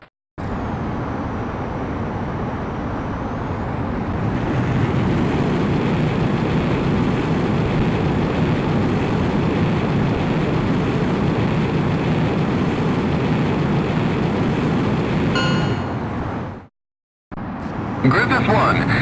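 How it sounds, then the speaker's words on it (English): Jet fighter in the video game Ace Combat X spooling up and roaring down the runway on takeoff, a loud sustained engine blast that swells and holds, then cuts briefly before resuming. "Griffith 1, you are cleared for takeoff."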